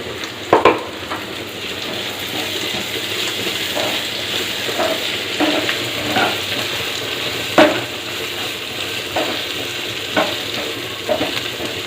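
Ginger garlic paste frying in a pan for a potato kurma, a steady close sizzle broken by repeated spoon scrapes and knocks against the pan as it is stirred, with no talking.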